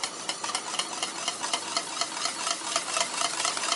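Vanilla being stirred into a warm banana cream pie filling in a pot, making a steady run of soft rhythmic scraping and gentle bubbling, close and continuous, with no talk.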